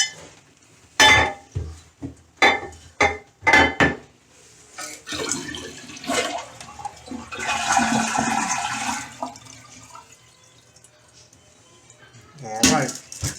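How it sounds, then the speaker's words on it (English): A household toilet is flushed to drain its tank during a valve repair, with the main water supply shut off. Several sharp clunks and taps come first, then a rushing, gurgling flush that fades, and a final clatter follows. "I'm going to flush the toilet because I got to drain this reservoir"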